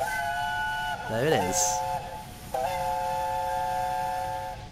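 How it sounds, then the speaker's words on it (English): The steam locomotive Tornado sounds its whistle in Train Simulator 2018, a loud, sustained chime tone broken briefly and then resumed, with someone speaking over it. "we'll hear Tornado's whistle any second now"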